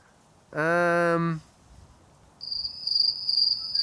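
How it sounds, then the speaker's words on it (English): A cricket sound effect: one short, bright buzzing trill, a brief pause, then a higher, steadier chirping that continues to the end against a near-silent background. "Crickets."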